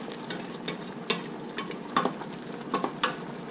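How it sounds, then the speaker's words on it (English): Peanut butter is stirred into a kare kare oxtail stew with pork hock and pig's feet in a pot, making soft scraping strokes and a few sharper clinks over a quiet, low sizzle. "I continuously mix it"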